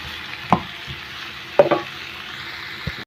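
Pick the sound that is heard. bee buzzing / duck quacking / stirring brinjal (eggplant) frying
stirring brinjal (eggplant) frying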